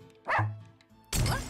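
A dog in the video game Russian Subway Dogs gives two short, close barks separated by a brief pause, the second one louder and harsher.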